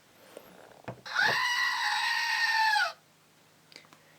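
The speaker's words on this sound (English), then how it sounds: "And here is He-Man next to the all-important Screaming Goat." A Screaming Goat toy packed with a Masters of the Universe Origins He-Man figure lets out one loud, sustained scream of about two seconds, close and alone, with only faint handling noise around it.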